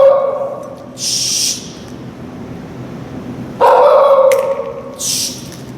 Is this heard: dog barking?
yes